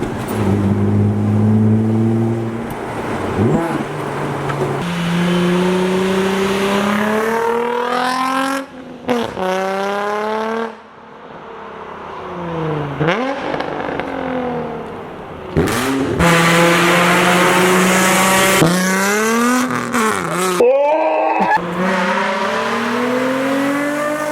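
A Nissan 350Z's VQ engine revs hard again and again through a Nismo exhaust, its note climbing and dropping in pitch with sharp blips, loud and close.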